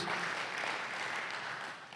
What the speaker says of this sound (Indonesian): beri tepuk tangan yang meriah buat nama Tuhan Yesus Kristus